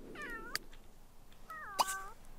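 A kitten in The Sims 3 gives two short, rising-falling meows about a second apart, thin and clear against a quiet background, with a soft click between them.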